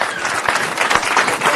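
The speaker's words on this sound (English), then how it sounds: "let's give them all a great round of applause again for their leadership." Audience applause at a city council meeting, honoring a group of students; a steady wash of many hands clapping at moderate loudness, filling the short moment without talk.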